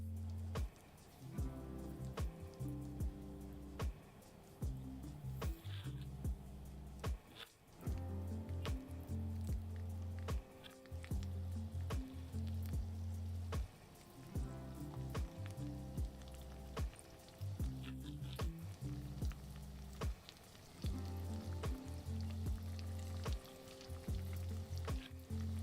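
Pieces of boiled homemade McRib-style meat fry in a pan to crisp their outsides, giving a soft, continuous crackling sizzle with a steady low hum beneath it and occasional pops and brief dips in volume, with no talking.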